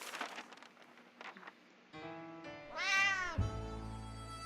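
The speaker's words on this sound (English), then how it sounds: "We can now hear its paws impatiently scratching our hatch." A cat meowing outside the shelter hatch in the video game 60 Seconds, a long drawn-out plaintive meow rising over a low game background, preceded by faint scratching and rustling.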